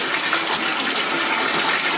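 Water gushes steadily from a bathtub faucet into a bath being drawn, a continuous loud rushing splash with no talking.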